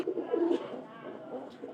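Pigeons coo softly at close range, a low repeating burble of the paired birds heard alone, with no speech over it.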